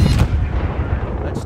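Rapid gunfire from Eris's gun in Call of Duty MW3: a dense, continuous booming roar of automatic fire with no breaks, loud and close, lasting about a second and a half.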